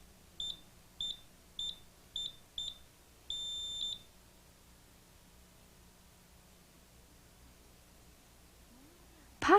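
A Brother KH-930/KH-940 electronic knitting machine buzzer gives a quick series of short, high, clear bleeps, then one longer bleep, followed by quiet room tone and a brief thump at the end.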